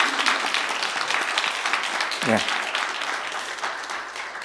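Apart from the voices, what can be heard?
applause welcoming missionaries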